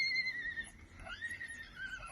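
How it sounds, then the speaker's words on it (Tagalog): A horse left behind by its mother whinnies in faint, drawn-out, wavering cries, distant and set against low background noise. "Umiiyak yung kabayo kasi iniwanan nung"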